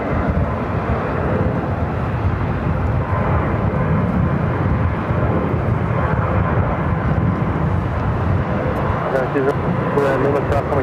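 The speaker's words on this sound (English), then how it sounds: "JetBlue is our next arrival, Flight 387, coming up from Boston on an A321." A JetBlue Airbus A321 arriving from Boston into LAX on a day of extreme winds gives off a steady, broad engine rumble mixed with wind noise, with talk running over it throughout.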